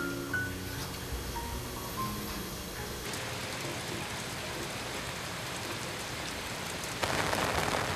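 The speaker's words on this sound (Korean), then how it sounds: "다음날 비가 부슬부슬 내린다." Light drizzling rain falls in mountainous terrain, a soft continuous patter and hiss at low level that grows slightly louder near the end.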